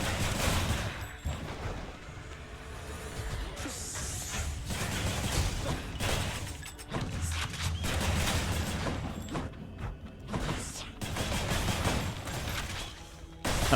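Dense, chaotic bursts of explosions and crackling combat effects in the action game Hades, loud and continuous throughout with brief dips, layered with rapid impacts and whooshes.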